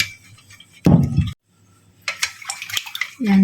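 Crab and eggs are stirred with water in a bowl, giving near, clattering scrapes and clinks of a utensil against the dish in short bursts around a brief pause, with a voice starting at the very end.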